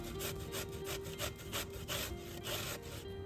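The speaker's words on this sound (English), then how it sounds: "So go ahead and just grate away," Zucchini is grated on the small side of a grater, a continuous rapid rasping scrape with rhythmic strokes, close and steady, with no voices.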